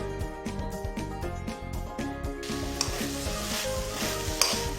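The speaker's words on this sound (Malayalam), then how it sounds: "നന്നായി മിക്സ് ചെയ്യുക കോവയ്ക്ക." Ivy gourd and chickpea thoran is stirred in a sizzling pan, a spoon scraping and clinking in quick strokes over a steady close frying hiss.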